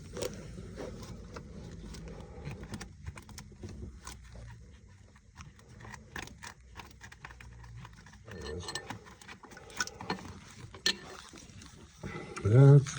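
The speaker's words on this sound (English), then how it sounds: "I'm just using a ratchet wrench on the end of it." A ratchet wrench backs out a long, tight starter bolt on a 2016-2021 Honda Civic 1.5T, giving a run of quiet, close, irregular clicking and metallic scraping that grows busier toward the end.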